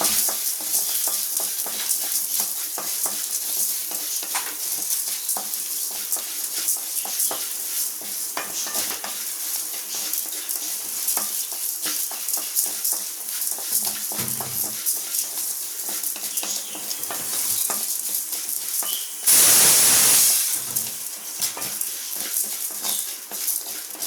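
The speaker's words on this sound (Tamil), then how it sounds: "இப்போ வந்துட்டு நம்ம தேங்காய் ஆட் பண்ணுறோம், வரமிளகாய், எடுத்து வச்சுருக்க புளி, இஞ்சி பூண்டு சேர்த்துக்கிறோம். அதுவே சேர்த்து வதக்கிக்கிறோம்." Coconut, dried red chillies, tamarind, ginger and garlic sauté in a pan with a steady close sizzle and frequent scraping stirs, plus one brief louder hissing burst about two-thirds of the way through.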